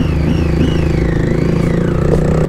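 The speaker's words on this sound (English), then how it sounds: "when you get a package like the Tiger 800 which offers you everything you need plus an awesome exhaust note" Triumph Tiger 800 motorcycle on an extreme off-road ride in Ladakh, its exhaust note a loud, steady, close-up engine drone with a rising and falling rev, heard alone.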